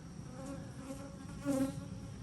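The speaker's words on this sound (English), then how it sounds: "I don't know if it'll pick up on it, on the bee traffic or not." Honey bees flying in and out near sourwood hives, a faint steady buzzing hum with a brief louder pass as one bee flies close.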